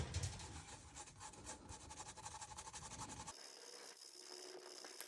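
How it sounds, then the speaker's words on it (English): A brush rubs Amodex stain remover into a Sharpie ink mark on a piece of clothing, giving a close, rapid, rhythmic scrubbing rasp for about three seconds before it stops and a quieter hiss is left. "They say to rub it in until the stain has been removed."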